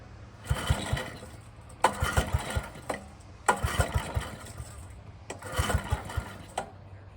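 A 1968 Ryan sod cutter engine, unused for 25 years, is cranked in four separate attempts. Each brings a burst of chugging, sputtering pulses that dies away before the next pull.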